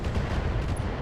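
BattleTech mech weapons fire on a Jenner, producing one second of dense, continuous rumbling blasts and crackling impacts with no pause.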